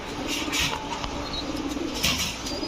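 Grizzle racer pigeons in a loft give soft, steady coos close by, with bursts of wing flapping and a few light chirps over a constant rustling background.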